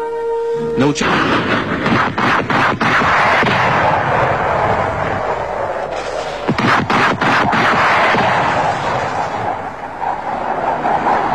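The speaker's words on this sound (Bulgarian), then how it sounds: "Група съветски самолети МиГ-27 нанасят мощни удари с ракетно и бомбово оръжие по подвижни цели на противника" Soviet MiG-27 aircraft strike moving targets with rockets and bombs, heard as a loud, rumbling barrage of booming blasts and sharp cracks rolling across a wide area, with a voice speaking over parts of it.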